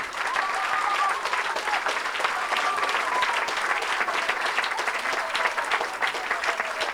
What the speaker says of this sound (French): Clap your hand for the Lord.